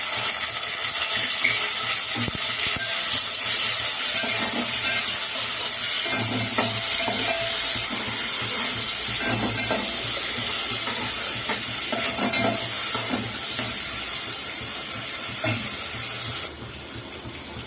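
Finely chopped tomato fries with crackled curry leaves, giving a continuous loud sizzle throughout along with repeated stirring scrapes and light clinks. The sound eases slightly near the end, and no one talks.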